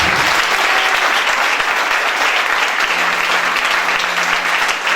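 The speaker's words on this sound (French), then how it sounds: "Acclamez pour le Seigneur." A church congregation applauds and cheers for the Lord, a loud, sustained wall of clapping that runs unbroken from start to finish, with faint voices mixed in.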